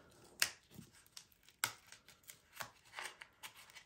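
Backing sheet peeled off adhesive vinyl: sharp crackling rips and tearing rustles come in uneven bursts, close and fairly quiet, with no voices.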